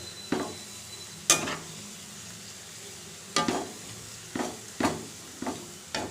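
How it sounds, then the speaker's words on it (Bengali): Onions frying in a pan for fish biryani, a faint low sizzle broken by several sharp scraping stirs and clinks of a spatula against the pan, with no talking. "পেঁয়াজটা মনে পুড়ে পুড়ে যাচ্ছে।"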